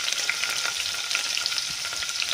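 Paneer cubes frying in a pan for a masala brinjal and paneer curry make a loud, close, continuous sizzle with small pops and crackles throughout, and no one speaks.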